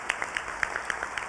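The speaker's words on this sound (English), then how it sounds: "would you stand for a round of applause?" Sparse claps from a small audience at a bar association breakfast, honoring a person who stands up. The claps are irregular, fairly close and modest in volume, and a faint room hum sits underneath them.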